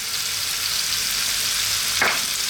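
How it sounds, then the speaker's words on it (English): Potatoes go into a sizzling pan for sausage stew, a loud, constant close-up hiss of frying with a brief stirring scrape near the end. "Then we're going to add in our potatoes"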